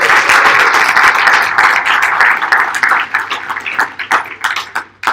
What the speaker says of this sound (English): Everybody, can you please give a huge round of applause for Katie?